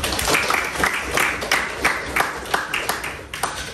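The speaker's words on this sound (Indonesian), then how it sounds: "buat yang 5 kita kasih tepuk tangan dulu dong" Students clap during a classroom session, a moderate burst of scattered hand claps with an uneven rhythm, fairly close, with a faint voice in the background.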